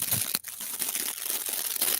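Scratchy foam makeup brush cleaner is crunched and squeezed close to the microphone, giving a continuous dry crinkling with a few sharper crunches that sounds like dried leaves.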